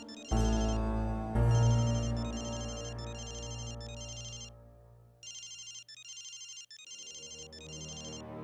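A mobile phone rings with an incoming call, its bright melodic ringtone repeating in short patterned bursts with a brief pause, after a low swelling tone at the start.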